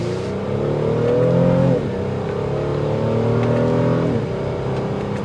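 A 2024 Honda Pilot Elite SUV engine revs hard under acceleration, a loud, steady, powerful drone heard up close from inside the cabin, with pitch shifts as gears change.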